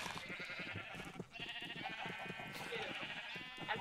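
Sheep in Minecraft bleat repeatedly in quick, wavering cries over busy game sounds, with a person talking over them throughout.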